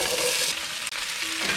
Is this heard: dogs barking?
no